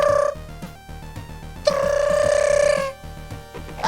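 A telephone in the video game Punch Club rings in two electronic bursts, a short one and then a longer sustained ring, loud and clear over quiet background music with no talking.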